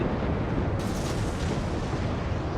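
Torpedo salvo fired from the French destroyer Friant in the naval game World of Warships: a dense, steady roar of game sound with a brighter whoosh of launch noise joining partway through, loud and continuous with no talk.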